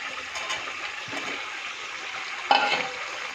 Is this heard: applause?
no